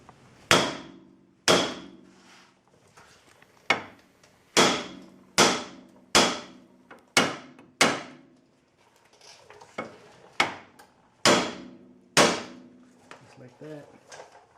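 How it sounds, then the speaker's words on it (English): A hammer strikes the steel steering knuckle on a Dodge to shock loose a tapered upper ball joint stud, delivering about a dozen sharp, ringing metallic blows in an uneven rhythm, loud and close. "we're gonna shock the knuckle so that it breaks free"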